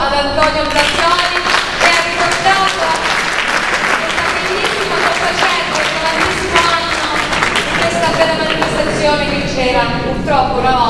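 Audience applause at an outdoor summer music and folk-choir evening in Pescara, a loud and steady round of clapping from many hands that keeps going for about eleven seconds.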